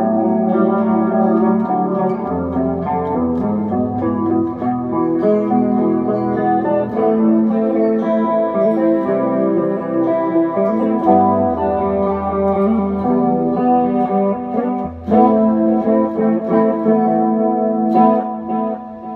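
Clean electric guitar chords and arpeggios ring out with a shimmering, wavering chorus and a wash of reverb, played continuously with no voices.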